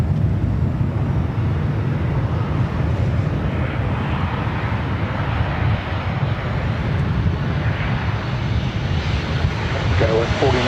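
A SkyWest Embraer E175 jet on a Delta connection flight roars at LAX airport, a loud continuous broadband engine rumble holding steady throughout, with faint radio chatter beneath.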